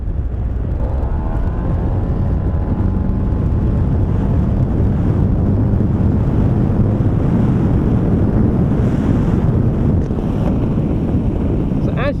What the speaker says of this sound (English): I'm going to show you what the throttle pickup is like full throttle.